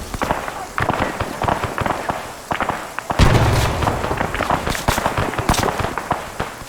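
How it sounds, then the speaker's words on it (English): Grenade blast in Arma 3 during a firefight: a loud heavy burst near the middle, surrounded by dense crackling gunfire and scattered shots throughout. "And have one more grenade."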